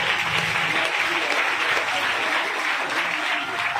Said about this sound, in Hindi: एक बार सभी तरह जोरदार तालियां स्वागत करेंगे